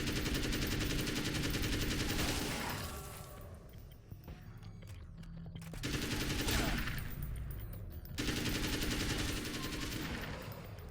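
Sustained bursts of gunfire from the video game Alan Wake, loud and dense, with brief lulls around four and eight seconds before the shooting resumes.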